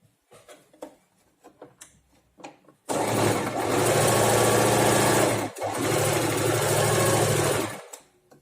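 A sewing machine stitching a baby cap runs in one loud, steady, close whirring burst after a few quiet handling sounds, briefly pausing once before continuing.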